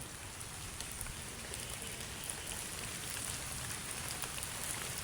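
Heavy rain pouring steadily onto surfaces outdoors, a dense, even hiss with scattered drop patter that holds unbroken throughout, fairly soft overall, with no voices.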